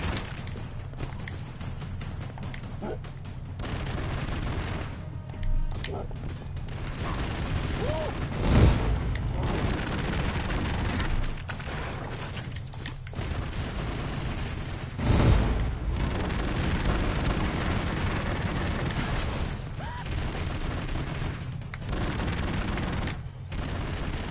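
Enemy chain guns fire in Broforce as dense, continuous rattling gunfire with two heavier booms, a loud and busy game battle running throughout.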